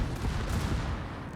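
Naval guns firing in a warship battle video game, a dense, continuous rumbling roar of heavy fire, loud and steady throughout with no talking.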